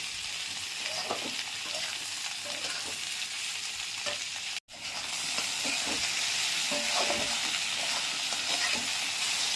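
Potatoes fry in hot oil with a steady, dense sizzle and crackle, punctuated by soft scraping stirs and a momentary cut in the middle.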